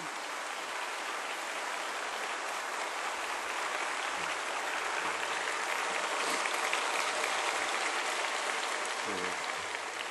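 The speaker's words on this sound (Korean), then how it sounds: "박수로 맞이해 주시기 바랍니다." A church congregation applauds to welcome a pastor to the pulpit, a dense, steady clapping from a large crowd sustained for about ten seconds with no speech over it.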